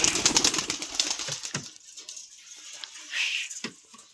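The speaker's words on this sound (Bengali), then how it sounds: "কবুতরগুলো সব খাওয়ার জন্য ব্যস্ত হয়ে আছে" Domestic pigeons at a village home bustle while feeding, with soft patter and brief wing flaps up close over the first second and a half, then quieter shuffling and a faint rustle.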